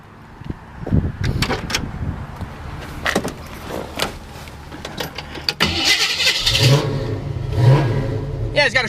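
A 1966 AMC Rambler American 440 hardtop cranks and fires up nearby, its engine catching and revving in uneven bursts with some clanks and clicks, then settling into a louder running idle.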